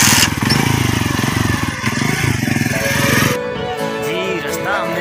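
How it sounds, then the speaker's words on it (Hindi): Motorcycle ridden along a dirt shortcut track between crop fields near Alipur Syedan, Narowal, its engine a steady loud drone throughout, the pitch wavering and easing slightly near the end. "आए अब चलते हैं और मोटरसाइकिल पर चलते हैं"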